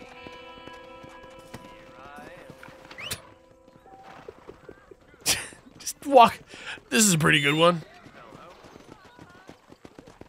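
Hoofbeats and a whinny from a horse in the Red Dead Redemption video game, clip-clopping steps followed by loud neighing bursts, with people talking over the game sound.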